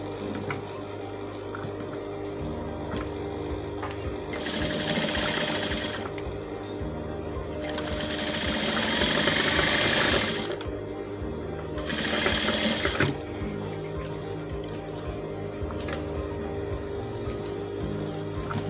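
A sewing machine stitches a vintage shirt in three bursts of fast, even whirring, close and alone, with quiet pauses between the runs.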